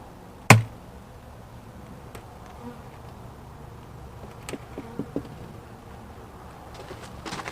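Bees and a yellow jacket buzz around a Layens hive outdoors, faint intermittent insect drones after a sharp knock near the start, with light handling noises.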